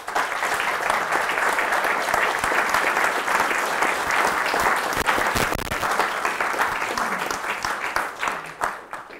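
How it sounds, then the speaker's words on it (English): A crowd at a virtual and augmented reality launch talk gives the panelists a full, continuous round of applause that stays loud throughout and thins only at the very end. "A round of applause for the panelists."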